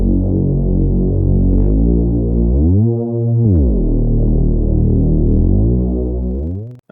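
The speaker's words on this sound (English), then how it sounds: "And finally we have the Reese bass." A thick, detuned Reese synth bass made in Serum drones steadily, its pitch sliding down and back up midway, with a slow phasing throb, ending abruptly.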